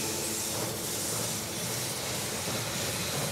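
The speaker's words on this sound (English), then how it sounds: "The train has arrived at the station." A train arriving at a station in the strategy video game They Are Billions, a steady broad hiss like venting steam that holds at an even level throughout, with no talk.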